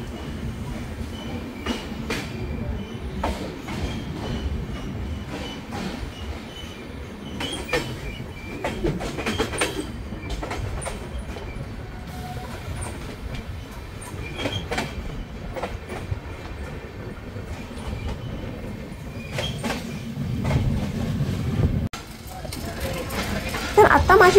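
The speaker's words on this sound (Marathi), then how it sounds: "तर आता भिवंडी रोड हेही स्टेशन माझ्या ट्रेननी सोडलं आहे." Goa Sampark Kranti Express (12450) running on rails at night after leaving Bhiwandi Road station, with a continuous rumble and rhythmic clickety-clack of wheels heard from inside the train, while a person talks over it.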